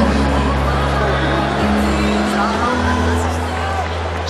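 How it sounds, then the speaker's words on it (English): Dense, loud crowd roar filling a boxing arena during a professional bout, a constant wall of cheering and chatter with a steady low hum underneath. "So much noise in the crowd, you can barely hear what's going on in the corners."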